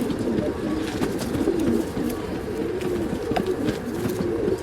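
Rekdhar breed pigeons cooing steadily in a loft, a dense chorus of overlapping low throaty coos from several birds close by, with no voices.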